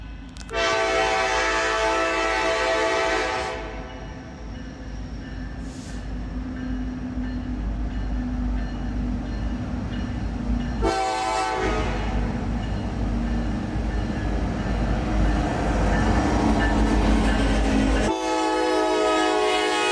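A train rumbles steadily past with continuous rolling rail noise, while a loud horn blasts several times, long and close.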